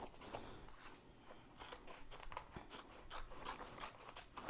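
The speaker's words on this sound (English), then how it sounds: "cut this material down some" Scissors snip through embroidered patch material, a quiet run of rapid, repeated close-up cutting strokes with no talking.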